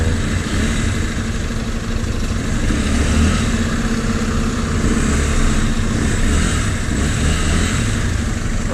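A city bus pulls away in traffic, its engine droning steadily and loudly close by alongside a broad, constant road and engine roar, with no voices.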